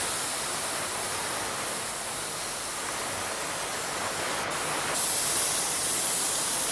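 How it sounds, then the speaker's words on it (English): An airbrush sprays paint with a steady, close, even hiss that runs unbroken throughout and brightens slightly near the end. "pay attention to which way your airbrush is directed."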